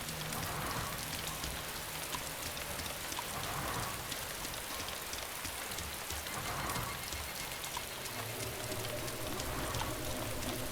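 Rain in the survival game DayZ, a steady hiss of falling drops pattering on surfaces, unbroken for over ten seconds at low, even volume, with no voices.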